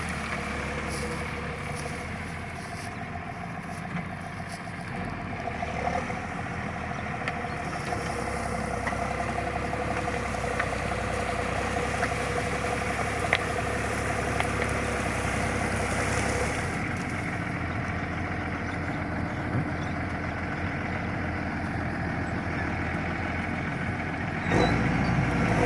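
A stuck car's engine idles and drives in a steady, close rumble that runs unbroken the whole way, with only small swells in level and no voices.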